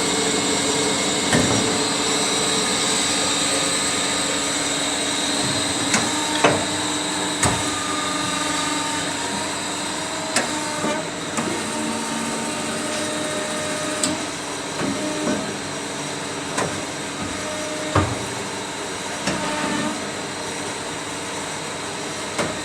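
A P1-540 automatic saw machine runs through a cut with a loud, steady mechanical drone and whine, marked by periodic sharper clunks as the cycle advances.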